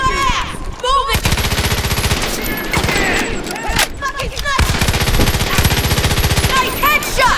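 Rapid automatic gunfire from the Far Cry 5 video game bursts loudly in long rattling volleys with short pauses between them, mixed with game voices.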